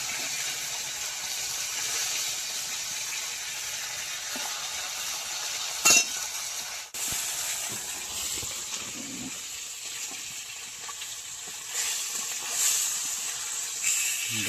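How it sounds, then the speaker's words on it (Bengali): Fish fries in a pan with a steady hissing sizzle close by, briefly interrupted by a couple of sharp knocks and a gap partway through. "মাছ সুন্দরভাবে ভাজা হয়ে গেছে"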